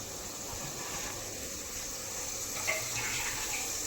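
Water runs from a tap in a steady, unbroken rush, filling a container at close range. No one speaks.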